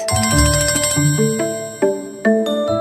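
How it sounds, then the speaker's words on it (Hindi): Mobile phone ringtone for an incoming call, a bright melodic bell-like tune of several tones with a few sharp chimed notes, loud and close with no talk. "पूरो दीदी का फोन है"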